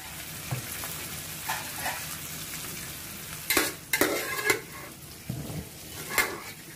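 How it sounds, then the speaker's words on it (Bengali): Potatoes dropped into a frying spice paste for jackfruit curry, producing a low sizzle broken by several sharp bursts and scraping stirs in a pan, with no talk. "এই মশলার মধ্যে এবার আলুগুলো দিয়ে দেবো।"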